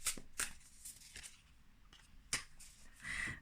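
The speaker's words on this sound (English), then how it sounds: "I'm shuffling." Tarot cards being shuffled by hand, slowly and unhurriedly, with a series of crisp riffling and snapping bursts spaced irregularly across the moment, close and fairly quiet, with no talking.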